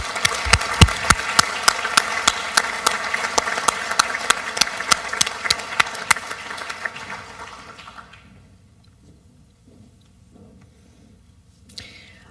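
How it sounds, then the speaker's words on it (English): Audience applause at a youth human rights awards ceremony, a burst of fast, sharp clapping from many hands lasting about eight seconds before fading out, followed by near silence and a brief faint sound at the end. "Please, let's give a big round of applause to these students."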